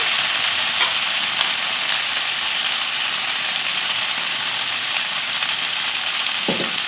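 Chicken and green onion frying in a pan for chow mein, a loud, steady, broadband sizzle filling the whole stretch with a couple of faint clicks, close and continuous, no one talking.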